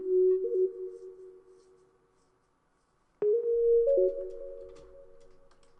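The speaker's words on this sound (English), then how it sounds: "Next is this sine wave here." Pure sine wave synth playing a simple stepped melody in a trap beat, clean tones holding and shifting pitch, with a short gap of near silence before the line resumes, soft and isolated.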